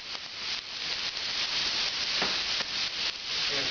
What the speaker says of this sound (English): In the same hot pan, we're going to add our onions